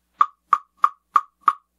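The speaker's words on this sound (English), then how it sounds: "they call this a piccolo woodblock" Pearl plastic piccolo woodblock hit five times in a steady beat, each a bright, high, hollow tock ringing briefly, close and alone.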